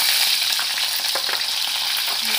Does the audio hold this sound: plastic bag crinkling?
no